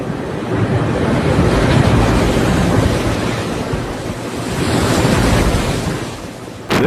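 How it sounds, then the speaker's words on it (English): Storm at sea with waves and wind pounding a ship, a continuous loud roar of surf and gusting wind noise with no pauses, surging slightly and close to the microphone. "This is what a storm really looks like from the inside."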